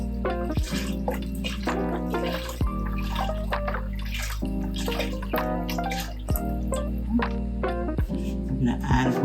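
Broth is poured into a pot of hearty pumpkin soup, a close, steady gurgling splash of liquid with drips running throughout and a voice faintly present.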